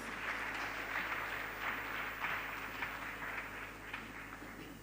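Audience at a Ghanaian economic forum applauding to welcome the Deputy Minister, a fairly quiet, even wash of clapping heard from a distance over a low steady hum, with no talking.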